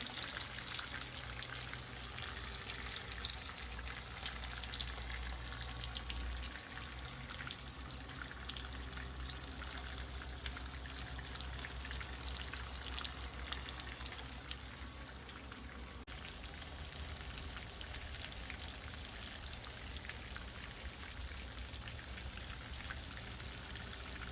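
Salmon patties frying in a skillet give a dense, steady sizzle and crackle that stays even and close from start to finish, with no voices.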